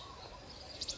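Brown Shrike (Lanius cristatus) in Thailand giving two quick, high chirping calls close together near the end, faint over a low background murmur.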